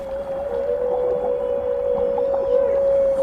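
Humpback whale singing underwater, a sustained tonal moan held steady for several seconds with faint warbling inflections over a low watery rumble, loud and close.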